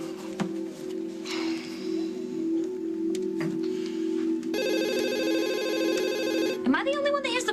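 A telephone gives an electronic warbling ring for about two seconds over a steady background hum, with voices talking nearby.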